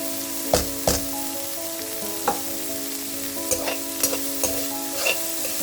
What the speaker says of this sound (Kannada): ಆ್ಯಡ್ ಮಾಡಿಕೊಂಡು ಚೆನ್ನಾಗಿ ಮಿಕ್ಸ್ ಮಾಡ್ಕೊಳ್ಳಿ